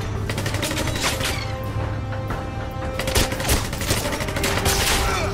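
Dense bursts of automatic gunfire in the James Bond 007 Legends shooter game, rapid overlapping shots and booms sustained loud throughout with no pauses.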